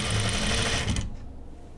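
A sewing machine stitches around a curved collar in a fast, buzzing burst for about a second, then stops abruptly, leaving a quiet room tone.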